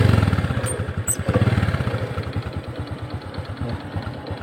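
First-generation Honda Supra X 125 motorcycle engine, a brief starting burst followed by a steady, even, close-up idle with a soft rhythmic putter, fading slightly toward the end.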